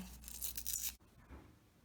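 Paper wrapper peeled off a wax crayon, a quiet, close, scratchy tearing lasting about a second before it stops abruptly, leaving faint room noise.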